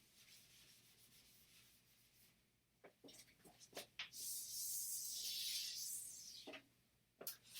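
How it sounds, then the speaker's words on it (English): Marker writing on a whiteboard is rubbed away with an eraser during a math lecture on induction proofs, heard as a few short scrapes, then a long loud sweeping rub, with brief squeaks near the end. "I guess I'm going to erase this now."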